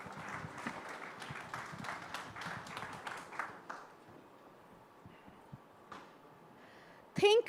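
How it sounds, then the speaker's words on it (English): Audience applause at an AI summit greets a session's introduction, with several seconds of steady crowd clapping that fades out, leaving a quieter room before a brief louder sound at the end. "A huge round of applause, please."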